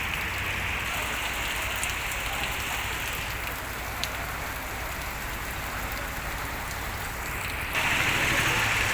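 Heavy rain pours steadily in the Bhavnath area of Junagadh, Gujarat, on the Girnar pilgrimage route, a dense continuous hiss with occasional faint clicks, growing slightly louder toward the end.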